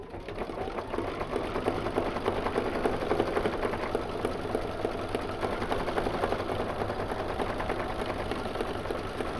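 A domestic sewing machine stitches down a quilt piece for a Kimberbell Shout Hooray project, running steadily for the whole span in a close, even mechanical whir with fine rapid needle ticking and no talk.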